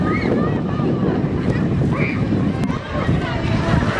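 Cold wind buffets the microphone beside open water in Russia, a loud continuous roar with gusting rumble and faint lapping, steady throughout with no clear talk.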